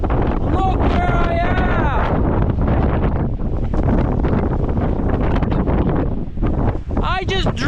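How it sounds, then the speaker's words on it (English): Loud, constant wind buffeting the microphone at a high lookout over the Gulf of St. Lawrence, with a voice talking over the roar throughout. "It's so windy up here."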